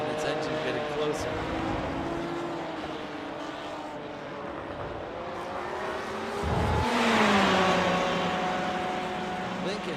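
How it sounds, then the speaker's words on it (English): Race car engine drawing closer from behind in an iRacing sim race at Indianapolis Motor Speedway, a rising whine that swells louder and peaks late in the stretch, with a voice talking over it throughout. "You really hear the car behind and its engine getting closer."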